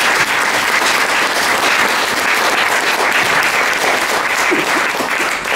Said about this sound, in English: I think we should give her a big applause for that.